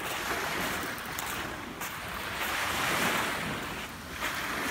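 Ocean surf washes onto a beach in a continuous broad roar, with swells rising and falling and some wind noise across the microphone.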